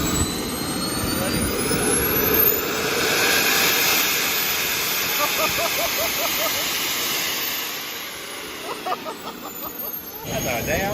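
A small RC jet airplane's turbine roars at full thrust close by, a loud continuous whooshing blast with a rising whine, while people talk over it.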